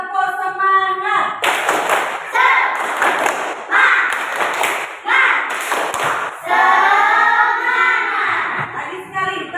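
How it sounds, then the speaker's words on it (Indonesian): A classroom of children does rhythmic 'tepuk semangat' clapping, bursts of claps and thumps in a patterned beat mixed with chanting voices and a teacher speaking. "Ibu akan ajak kalian untuk tepuk semangat"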